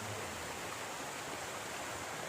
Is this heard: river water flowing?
yes